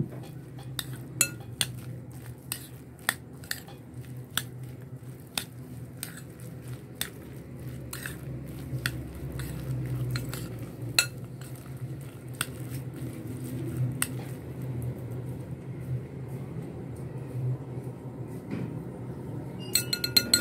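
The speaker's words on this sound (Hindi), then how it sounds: "मैंने अंडा शामिल किया इसे अच्छे से मिक्स करेंगे" A spoon works egg into a potato mixture in a bowl, with soft squishy stirring and frequent sharp clinks of metal against the dish, steady and close.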